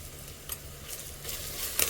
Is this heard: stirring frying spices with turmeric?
yes